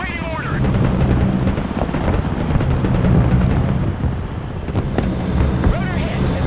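Cargo helicopter in the video game Broken Arrow, a steady loud rotor and engine drone with gusty wind-like noise running throughout, with intermittent game voices and effects over it.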